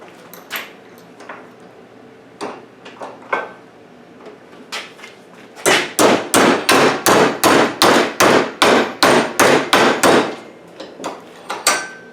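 Hammer blows on quarter-inch round carbon steel rod legs being bent for a kinetic butterfly sculpture: scattered sharp metallic strikes, then a fast loud run of about a dozen evenly spaced hits, tapering back to a few lighter taps.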